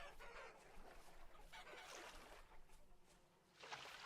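Chickens cluck in short bursts on a farm in the video game Vintage Story, close and fairly steady against a soft ambient background.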